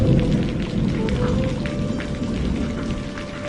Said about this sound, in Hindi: टोनी चिड़िया अपने घर पहुंच जाती है और बारिश रुकने का इंतजार करती है।